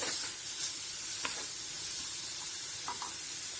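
Water chestnut pieces fry in a pan to drive off their water, giving a steady soft sizzle and hiss throughout with a few light scraping touches, fairly quiet and close, no talking.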